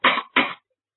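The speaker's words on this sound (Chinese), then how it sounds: "在后边直咳嗽，" A storyteller, performing a pingshu tale, gives two sharp coughs in quick succession, close and loud, followed by silence.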